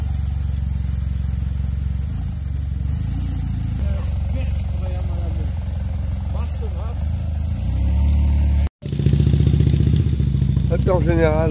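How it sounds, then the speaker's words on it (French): A heavily loaded Harley-Davidson motorcycle rumbles along a road in steady engine drone, with a brief cut before the engine note rises and grows louder; people talk over the noise throughout. "Là-bas, on a un Harley qui est bien chargé."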